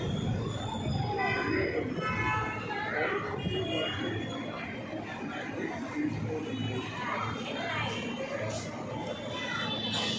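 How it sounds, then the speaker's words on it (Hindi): A metro train pulls in at a busy Mumbai station platform, a steady loud rumble and whine of rail cars arriving while a crowd chatters all around. "मेट्रो आ गई।"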